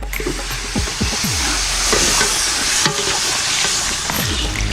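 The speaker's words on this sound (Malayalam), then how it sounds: "ഈ നാടൻ ഐറ്റം എല്ലാം കൂടെ നമുക്ക് ഇളക്കി കൊടുക്കാം" Ribs from a 900 kg Bellary buffalo are stirred into a beef rib curry in a pot, with repeated scraping and clanking strokes over a constant sizzling, frying hiss.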